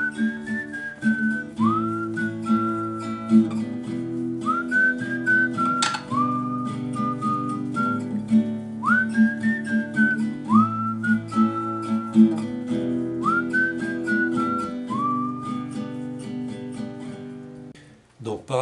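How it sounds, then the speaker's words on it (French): Someone whistles the melody of a song in clear rising and falling phrases over a steady guitar backing, close and prominent throughout. "Moi, je ne sais pas trop chanter, donc je vais plutôt siffler."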